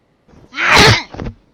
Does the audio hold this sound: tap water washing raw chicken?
no